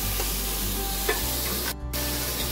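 Green pumpkin stir-fries with red chili and garlic paste, a loud continuous sizzle with stirring scrapes throughout and a brief dip midway.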